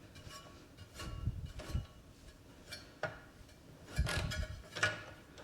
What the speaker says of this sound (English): you can actually spin the prop and it'll loosen it as long as you're spinning it the right direction